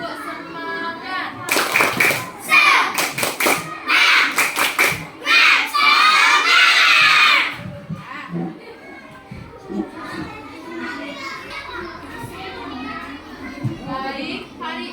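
A classroom of fourth-grade pupils in Indonesia doing the tepuk semangat clapping cheer, with loud, rhythmic patterned claps in quick bursts mixed with children's voices, then fading into chatter and talk.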